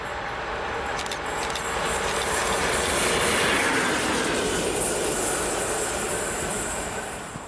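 Class 50 diesel locomotive 50050 passes at speed, a loud, steady rumble and rolling roar that swells to a peak midway and then eases as it moves away, with faint clicks of wheels over rail joints.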